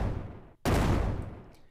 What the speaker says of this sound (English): you see it played the explosion twice